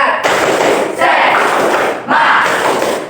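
Schoolchildren in a classroom doing the tepuk semangat clapping routine, loud bursts of clapping and shouting in three rhythmic waves, close and energetic.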